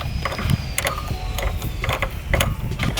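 Ratchet breaking loose 10mm bolts on the valve cover of a 2002 Honda Civic, repeated clicking bursts with short pauses between, close and fairly loud over a faint steady hum.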